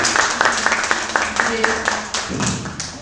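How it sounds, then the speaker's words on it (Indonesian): Scattered hand clapping from a small group at an Indonesian teachers' talk show event, uneven and moderately close, with background voices talking over it. "Tepuk tangan dong untuk semua."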